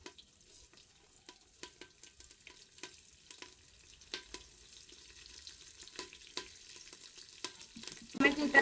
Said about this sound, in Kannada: ಈ ಥರ ಒಂದು ಸ್ವಲ್ಪ ಫ್ರೈ ಮಾಡಿಕೊಂಡು ಅವು ಚಟಪಟ ಅಂತ ಸಿಡಿಯೋ ಟೈಮಿಗೆ